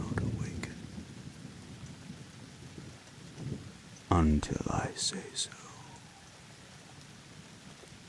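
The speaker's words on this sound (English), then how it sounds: "Let the crashing of the rain and the thunder lull you further into sleep" Steady rain falls throughout with a sharp crack and rumble of thunder midway, under a softly whispering voice.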